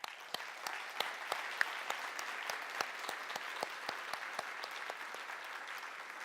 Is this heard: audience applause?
yes